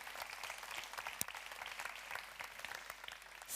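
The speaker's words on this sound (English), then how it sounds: "big round of applause" Faint, scattered audience applause at a food industry conference convention session, sounding distant and thin, with individual claps standing out from a soft wash of clapping.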